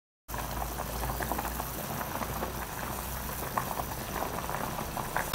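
Beef curry meat boiling in a cooking pot, a steady dense bubbling and simmering hiss that runs continuously throughout, close and even in level with no voices.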